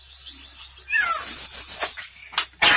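A cat trapped inside a car at a mechanic's shop gives short meows while people work to free it, with clanking and bursts of hissy noise around it.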